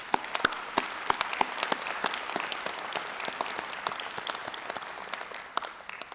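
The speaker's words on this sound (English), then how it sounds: "let's take a moment to give them a round of applause" Applause at a university spring convocation ceremony for graduates' families and supporters, moderately distant crowd clapping with individual sharp claps standing out, holding steady and tapering slightly at the end.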